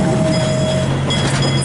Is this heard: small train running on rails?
yes